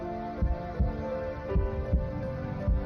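Human heartbeat, slow and steady double thumps repeating about every half second, deep and muffled beneath a soft continuous hum.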